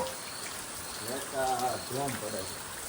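Steady rain hisses in the background over a village whose river is flooding with muddy water, while a person talks over it.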